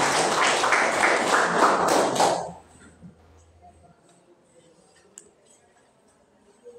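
A classroom of students claps together briefly and fairly close, the burst lasting about two seconds before fading into a quiet room.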